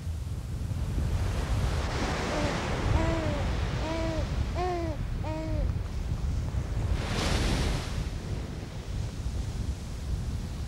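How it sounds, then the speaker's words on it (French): Steady broadband wind rush with low rumble throughout, a surge of gusty noise near the end, and a few hooting tonal calls in the middle. "Là, ce qui te touche, c'est le vent."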